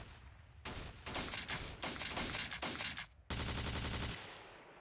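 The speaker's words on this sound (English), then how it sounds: "Let's keep firing there." Squads trading fire in the Steel Panthers wargame, a WWII 1944 campaign: dense bursts of rifle and machine-gun fire in several loud blocks separated by brief gaps, with no voices.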